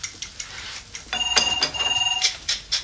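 A telephone rings with a bright electronic trill of rapid pulsing tones lasting about a second, following a few scattered clicks and knocks in a quiet room.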